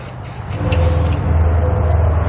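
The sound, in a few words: spraying general purpose lubricant from a can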